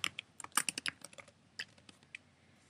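A phrase being typed on a computer keyboard, a quick burst of crisp close key clicks followed by a few sparser taps, quiet room, no talk.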